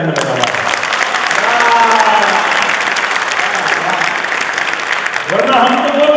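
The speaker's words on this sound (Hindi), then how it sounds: "लेकिन साहब तालियां तो आपकी अब देखना चाहता हूं" An audience at a live Hindi comedy show claps in a loud, sustained burst of applause lasting several seconds, joined near the end by a voice over the clapping.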